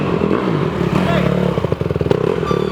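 A dirt bike engine, started with the hot start, revs in short choppy bursts near the end, with people talking over the rough, uneven engine noise throughout.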